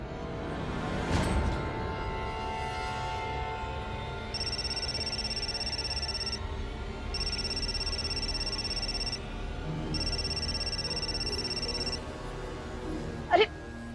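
A telephone rings indoors in a Hindi TV drama scene. The ring is a steady electronic tone in three long bursts with short gaps, over a background hum, with no speech.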